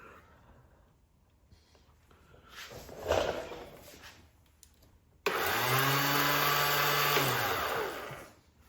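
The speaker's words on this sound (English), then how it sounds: "Okay, the starter is turning, the chain is turning the starter gear behind the flywheel." Electric starter of a Zongshen 190cc engine in a Honda CT70 cranks with a loud, steady whirring drone for about three seconds after some faint handling noises.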